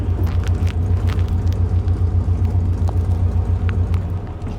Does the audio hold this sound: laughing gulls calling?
no